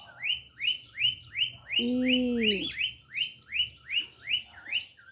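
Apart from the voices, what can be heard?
pet bird chirping and calling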